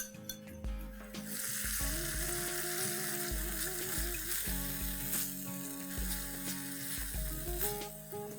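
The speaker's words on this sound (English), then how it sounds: "And this straight goes in the ghee that's now heating up." Masala paste sizzles and spatters in hot ghee, a steady loud frying hiss with repeated scraping and stirring knocks from a utensil in the pan for a Bengali khichdi.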